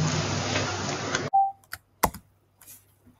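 Keys clatter on a computer keyboard as a prompt is typed, a dense burst of close clicks that stops abruptly, followed by a few isolated louder taps and faint desk noises in near silence.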